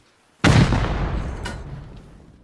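A single loud gunshot or explosive boom from the video game Rust, a sharp onset followed by a long decaying rumble, with a fainter second crack shortly after.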